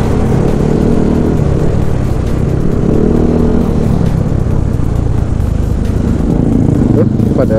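Loud, continuous engine roar of two motorcycles passing close by on a bumpy road in West Java, Indonesia, with a person talking in Indonesian over the traffic noise.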